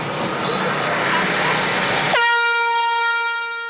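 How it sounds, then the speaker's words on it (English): A loud, sustained air horn blast sounds at a barbecue cook-off competition, cutting in sharply after a noisy crowd hubbub and holding a steady harmonic tone to the end. "As the air horn sounds for the final time"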